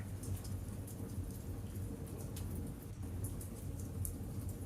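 Rain falling steadily and growing heavier, a dense, even hiss with low rumbling beneath, no voices.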